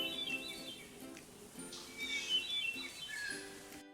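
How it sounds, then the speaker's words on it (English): A hermit thrush sings in the woods, clear fluting phrases repeating every second or so, with faint chirps from other birds in the background. "It's always wonderful to hear the hermit thrush in the woods and to catch a little glimpse."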